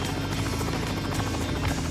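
Helicopter in flight in the Alaskan bush, a steady loud rotor chop with rhythmic thumping and turbine whine throughout the short stretch, no one talking.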